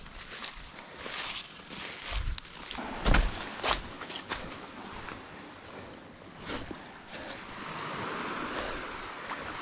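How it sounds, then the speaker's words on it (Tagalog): Sea waves wash onto a beach, a soft continuous surf hiss that swells and recedes, with a few nearby thumps and scuffs of movement. "Yung alon ng dagat dyan sa dalampasigan."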